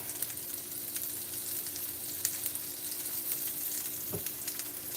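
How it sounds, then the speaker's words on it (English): Frozen food sizzling on a Ninja indoor grill, a constant crackling hiss with a steady hum and one brief knock near the end. "Want to hear that sizzle?"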